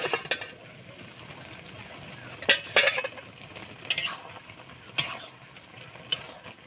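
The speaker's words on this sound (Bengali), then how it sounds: "চাপাটা খুলে নেব" A metal lid comes off a cooking pot of boiled taro: a few sharp, separate clinks and rattles close by over a quiet kitchen background.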